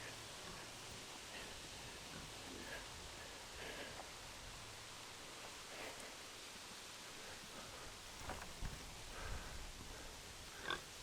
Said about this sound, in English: here's an oinker